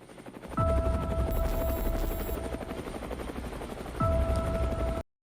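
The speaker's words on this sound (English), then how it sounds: "there's a diamond and the sound of a helicopter" Helicopter rotor chopping in a music video, a loud rapid thudding pulse that starts abruptly, holds steady for several seconds, swells again near the end, then cuts off.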